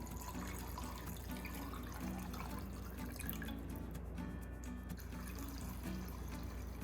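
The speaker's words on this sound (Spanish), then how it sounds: "vamos a cubrir con agua, que quede completamente cubierto" Water pours steadily into a cooking pot to cover the ingredients, a continuous close-up splashing and running flow with no pauses and no talking.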